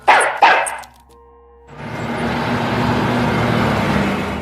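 A dog gives two sharp barks close by, followed by a pause and then a steady rumble of traffic that fills the rest of the scene.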